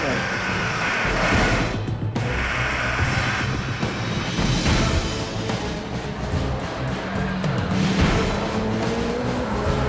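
A Le Mans 24-hour endurance race car heads back onto the track on four new tyres, its engine roaring and rising with fluctuating intensity under excited commentary voices.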